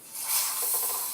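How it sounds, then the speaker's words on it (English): A steady airy hiss of air rushing into a Greens FGR-8800 vacuum blender as a lid lever releases the vacuum, starting abruptly and holding level for about a second, close and moderately loud. "suck the vacuum out by lifting this little lever"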